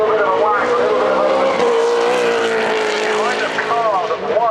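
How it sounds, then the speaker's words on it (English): A race car charges up the Goodwood hill climb, its loud, high-revving engine howling and shifting pitch as it passes near, with a commentator talking over it throughout. "That car is moving around."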